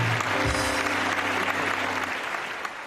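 Studio audience applauding on a Pakistani television game show, a dense burst of clapping that starts loud and gradually fades over a few seconds, with faint talk underneath.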